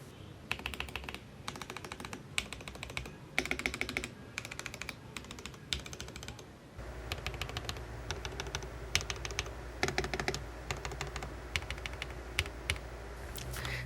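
Typing clatters across an Akko ACR75 mechanical keyboard with relubed, clipped plate-mounted stabilizers, close and crisp, with bursts of rapid keystrokes and brief pauses, first in one take and then in a second with a steady low hum beneath.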